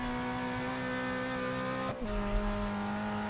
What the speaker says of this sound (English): You gotta rev the shit out of it.